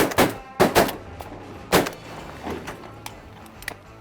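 Several sharp, loud shotgun blasts ring out in quick succession near the start during a duck hunt, followed by another single report and a few fainter pops afterward.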